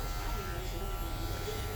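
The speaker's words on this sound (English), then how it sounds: "I can feel my clipper now cutting" Electric hair clippers hum steadily and close while cutting hair in a barber chair, a low continuous buzz under a voice.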